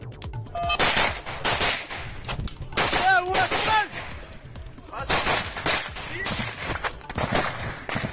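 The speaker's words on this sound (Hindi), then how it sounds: "मारियोपोल में यूक्रेन और चेचन लड़ाकों के बीच जमकर गोलीबारी" Gunfire from fighting between Ukrainian and Chechen fighters in Mariupol rings out in loud, close bursts of rapid shots and cracks, with a few voices shouting between volleys.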